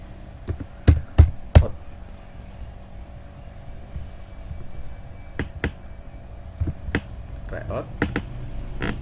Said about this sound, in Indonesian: Kita ketik judulnya